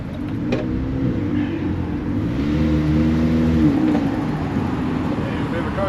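A car drives past along an alley beside a house build where siding is being installed; a steady engine hum swells through the middle of the pass, then eases off against constant background noise.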